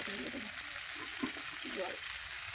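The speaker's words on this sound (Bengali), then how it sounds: "তেল ছাড়ছে, কষতে কষতে তেল ছাড়ছে, কষানোর প্রায় হয়ে গেছে।" Fish curry spice paste sautéing in oil with potatoes and pointed gourd, a steady close sizzle with soft stirring scrapes under a faint high hiss, no voices.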